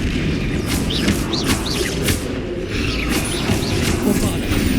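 A Bombarda spell blasts in Hogwarts Legacy, a heavy rumbling boom among dense game effects, with whooshing magical sweeps and mechanical rattles layered over a constant loud low-end roar.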